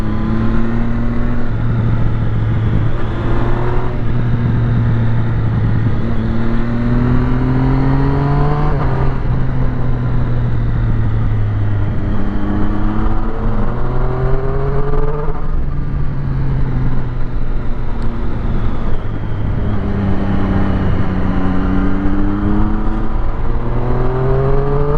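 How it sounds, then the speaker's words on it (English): Continuous loud traffic noise on a busy road with many cyclists, engines and exhaust notes rising and falling in pitch as vehicles pass by close, one after another, with some wind noise. "It's a busy road today, this."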